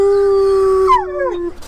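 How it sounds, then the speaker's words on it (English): A dog lets out one long, close howl-like bark, its pitch holding steady and then sliding down before cutting off. "That's barking, guys."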